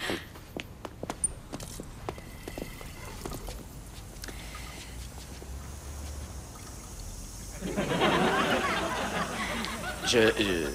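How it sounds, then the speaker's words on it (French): A household tap runs as someone washes their hands, the water rushing in steadily for the last few seconds after a quieter stretch with faint movement and low voices in the room. "J'entends le robinet."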